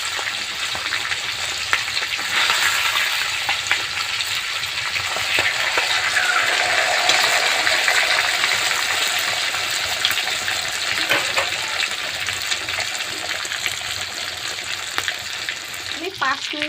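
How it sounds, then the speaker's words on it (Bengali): Chicken masala fries over a low flame, a steady, even sizzle and crackle that carries on without pause for well over a quarter minute, with a faint clink near the end. "এটা খুব হালকা জালে ভেজে নিতে হবে, বেশি জাল দিতে হবে না।"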